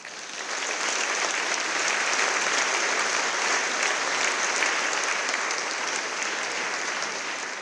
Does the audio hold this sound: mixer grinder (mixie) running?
no